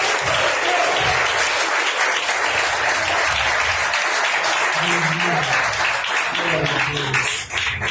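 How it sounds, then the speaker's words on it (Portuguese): A congregation at a church meeting applauding together after a prayer, dense sustained clapping filling the room, with some voices and murmurs mixed underneath toward the end. "Quem concorda com essa oração, aplauda o nosso Deus."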